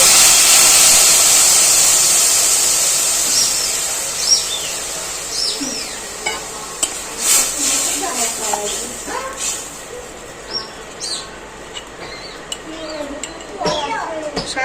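Stalks of vegetable for a Bengali shukto sizzle and hiss in a pan, with a steady steamy hiss up front and sputtering crackles as water goes in, under a speaking voice.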